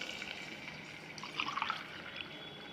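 Water poured by the glass into a pot for rice, for a festival offering, makes a faint splashing trickle that swells in the middle and then fades, with no one speaking.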